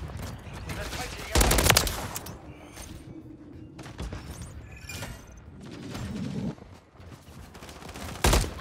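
Heavy automatic gunfire from a video game gun battle, loud bursts and sustained fusillade with sharp peaks near the start and end, a player's voice talking over it.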